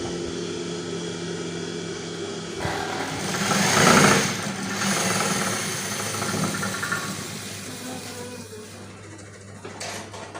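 A sewing machine motor whirs steadily, then coasts and slowly winds down, its hum gradually fading with a few clicks.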